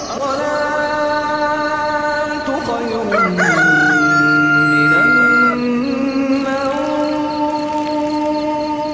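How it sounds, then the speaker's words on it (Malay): Rooster crowing near a bamboo campsite in the morning, with several long, rising and falling calls standing out clearly over a steady background of other birds and wildlife. "kedengaran kicauan burung di pagi hari kerana kat pokok buluh ni ada dalam 3 sarang burung"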